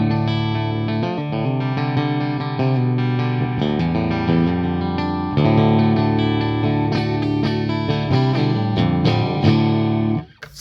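Distorted electric guitar played loud straight into a Marshall amp, chords and single notes ringing out with a gritty crunch, ending abruptly.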